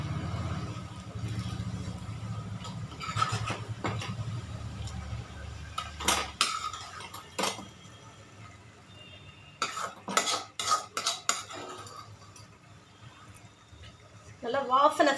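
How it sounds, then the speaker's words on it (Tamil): Fried chicken tikka is stirred into masala in a pan, with clinks and scrapes of a metal spoon against the pan in bursts, alongside a faint sizzle and a person talking. "இதில் நம்ம இங்கே ஃப்ரை பண்ணி வச்சுருக்கிற இந்த சிக்கன் டிக்கா எடுத்து போட்டுக்கலாம்."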